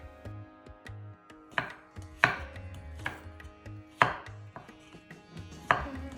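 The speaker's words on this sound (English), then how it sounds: "Remove the skin of the garlic and slice this and put this aside." Garlic cloves sliced with a knife on a cutting board, a series of crisp, close knocks of the blade, some quick and light, others heavier, in an uneven rhythm.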